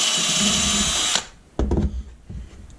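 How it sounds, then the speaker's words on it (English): A power drill with a step bit whines loudly and steadily for about a second, boring through a dirt bike protection part, then cuts off, followed by a few dull knocks and clatters. "I'm probably just going to drill through it with my unibit."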